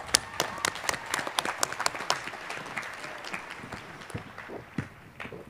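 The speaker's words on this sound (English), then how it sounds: "A round of applause." Audience at a university commencement claps in a dense burst of applause that is loud at first, then gradually thins and fades toward the end.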